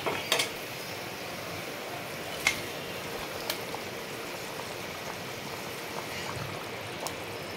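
Fish curry broth with taro bubbling in a pot, a soft continuous simmering burble with occasional faint clinks, quiet and close.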